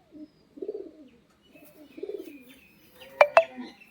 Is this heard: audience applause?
no